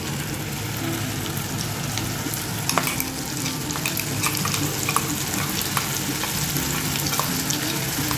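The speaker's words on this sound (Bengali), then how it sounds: "তেল দেওয়ার পরে এই বাটাটা এবার এতে আমি দিয়ে দিচ্ছি" Spice paste, ground for a winter-style fish jhal, fries in hot oil with yoghurt over low heat, giving a steady close sizzle with occasional stirring scrapes and small crackles throughout, no voices.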